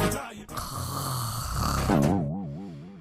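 A woman snores heavily in a TV drama scene. Each breath is a loud, rasping snort, and the last one trails off into a wavering, voiced drone.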